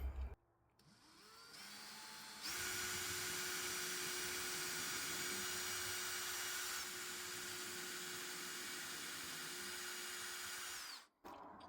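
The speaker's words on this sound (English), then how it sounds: "Now I'm going to drill out the holes." A small power drill with a 1/16-inch bit whirs steadily through copper for several seconds at close range, starting after a brief pause and stopping near the end; no talking.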